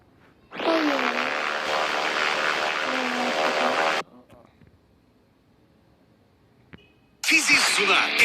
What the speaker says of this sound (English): Oh, the plane, huh? Gonna use this.